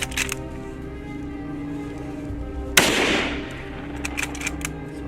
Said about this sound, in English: The sound of the gunshot echoes.